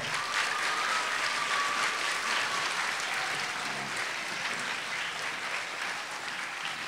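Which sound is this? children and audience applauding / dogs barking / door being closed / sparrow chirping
children and audience applauding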